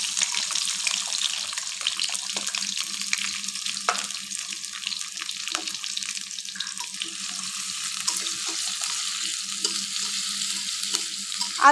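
Chopped onion and potato frying with whole coriander seeds in a pan for a Bengali potato and beef dish, a continuous hissing sizzle with occasional stirring scrapes, steady and close, no talking.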